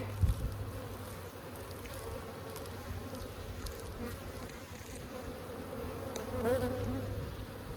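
Honey bees buzz steadily around an opened hive during a bee yard inspection, a dense continuous drone with a few louder passes close by.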